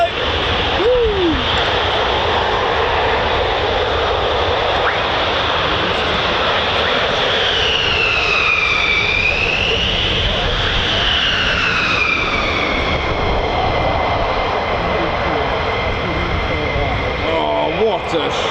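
F-15 or F-35 fighter jets climb out after takeoff at RAF Lakenheath, a continuous loud jet roar with a shifting whine, while voices talk excitedly over it.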